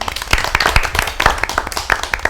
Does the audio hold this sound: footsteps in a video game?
no